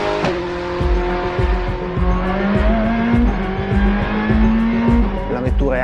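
A Ferrari P80/C (SP36) race car at full speed, its unrestricted engine howling loud and close with rising gear-by-gear pitch sweeps and sharp shift breaks, tire noise underneath, no talk.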